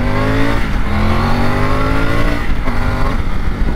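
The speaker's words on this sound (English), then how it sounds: "The noise of the bikes, have a listen." A 2021 Triumph Tiger 850 Sport motorcycle engine revving under way, loud and close, with rising harmonic pitch sweeps as it accelerates through gears, strong grunty tone with no talk over it.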